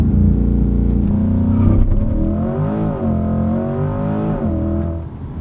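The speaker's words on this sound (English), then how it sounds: "Let's do a little launch control here for you guys." A 2020 Chevrolet C8 Corvette Stingray coupe launches hard under launch control in sport mode with traction off, its engine roaring loud and close with a rising, surging pitch through several gear steps over a few seconds.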